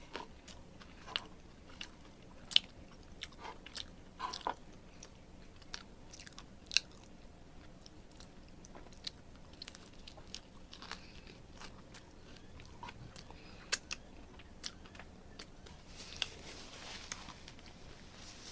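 Fries being chewed close to the mic during a mukbang of a spicy chicken sandwich meal, with soft crunchy bites and irregular sharp clicks over a quiet background, no talking.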